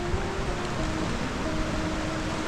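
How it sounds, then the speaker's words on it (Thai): A waterfall beside a mountain trail in Pakistan gives a steady, full rushing roar that holds even and unbroken throughout, with no voices over it. "เราจะมีการเดินผ่านน้ำตก ข้ามน้ำตก ผ่านข้ามทานน้ำตก"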